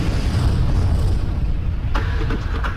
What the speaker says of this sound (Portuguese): Então houve a erupção.